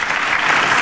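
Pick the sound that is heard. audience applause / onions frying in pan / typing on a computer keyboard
audience applause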